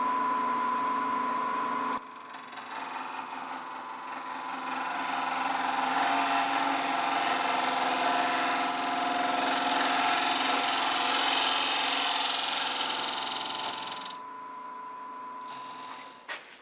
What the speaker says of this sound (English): I continue to use a 1 5/8 inch drill bit.